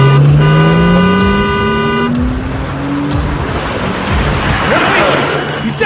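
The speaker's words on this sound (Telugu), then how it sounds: "నా ఇష్టం వచ్చినట్టు హార్న్ కొట్టాను రా." A car horn honks on a road in a long sustained blare, then cuts off as traffic noise and another vehicle sound carry on loudly beneath.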